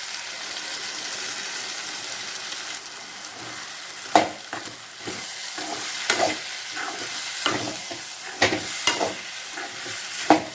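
A spoon scrapes and stirs roasted ground masala into sizzling potato and drumstick curry in a hot frying pan, with a steady frying hiss and scattered clinks and scrapes close by.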